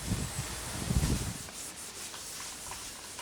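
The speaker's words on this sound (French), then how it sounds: "Ça ponce et ça ponce." A front shield is sanded by hand before repainting, a close, dense rubbing scrape that is loudest for the first second and a half and then continues as a fainter, steady abrasion.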